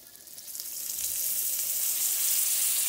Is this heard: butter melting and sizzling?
yes